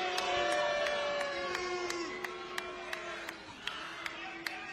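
An Impact Wrestling crowd claps in a steady rhythm and chants in support of Rosemary during her match against KiLynn King, the sharp claps landing evenly through a sustained crowd roar.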